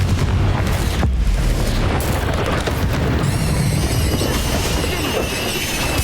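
Repeated fiery spell blasts from a Hogwarts Legacy battle go off as a loud, continuous barrage of booming explosions, with dense low rumble and crackling bursts running throughout.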